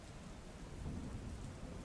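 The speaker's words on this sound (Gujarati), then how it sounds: "ગાજવીજ સાથે વરસાદ થતાં સોસાયટીઓમાં પણ પાણી ભરાઈ ગયા હતા" Steady heavy rain from a thunderstorm in Vadodara, India hisses with a low rumbling roll of thunder underneath, dense and continuous with no voices.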